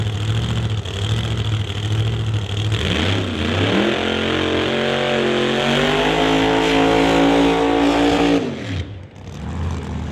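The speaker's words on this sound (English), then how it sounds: "the Bahrain 1 Racing Camaro getting ready to back up from the burnout" Bahrain 1 Racing Camaro drag car after its burnout at a drag strip, a loud close engine held at high revs, rising and settling steadily before dropping away.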